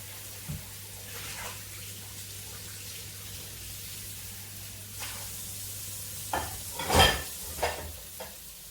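Sliced food cooks gently in a pan over low heat, a soft steady sizzle with a few light clinks and stirring knocks near the end, close and quiet.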